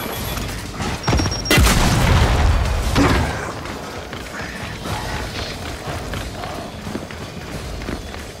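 A frag grenade goes off in Gears 5 with a loud, close boom near the start, followed by mechanical clatter and creaking combat noise that continues at a steady level through the rest of the fight.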